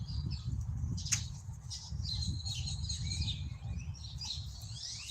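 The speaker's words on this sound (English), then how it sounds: "I'm just sitting out here with the birds, with my coffee" Birds chirp and squawk outdoors in the morning, several faint, scattered calls over a low background rumble.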